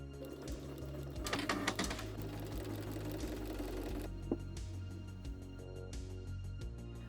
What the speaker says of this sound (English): so I'm sewing 1/2 inch away from the edge